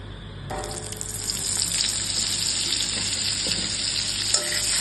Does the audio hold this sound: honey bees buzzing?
no